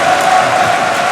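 A school assembly crowd lets out a loud, sustained collective cheer, a drawn-out, roaring group shout that holds steady throughout.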